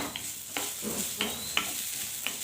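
Dry coconut roasts in a pan, heard as a faint low sizzle broken by a few regular scraping stir strokes, close and alone without speech.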